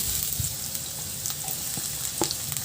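Onion added to a pan of ginger and garlic sautéing in oil for a Filipino dish, giving a steady soft sizzle with occasional light stirring clicks close by, no talk.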